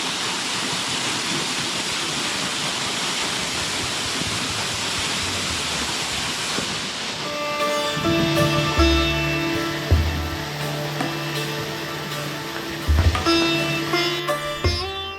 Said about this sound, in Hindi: मुरई के बाद एक खूबसूरत सी वाटरफॉल आती है रास्ते में, छोटी है लेकिन है खूबसूरत